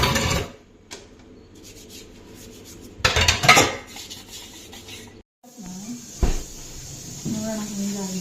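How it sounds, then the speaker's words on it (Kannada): Dishes, pots and utensils being washed by hand, with intermittent clatter and scraping bursts over a steady background, plus a few louder clanks near the end. "ಹೀಗೆ ಪಾತ್ರೆ ತೊಳೆಯುವ ಕಾರ್ಯಕ್ರಮ."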